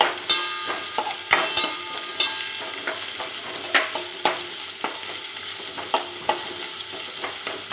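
Garlic, ginger and green chilli sautéing in a hot pan for an okra masala curry, a steady sizzle broken by regular sharp scrapes and clinks of a spoon stirring against the metal, close and clear with no talking.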